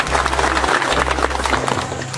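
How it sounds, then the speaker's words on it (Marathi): Farmers at an agricultural company event break into applause, a dense, steady patter of many hands clapping at once with a low hum underneath, filling the whole short stretch. "आणि सर्वांनी जोरदार टाळ्या व्यक्त करा."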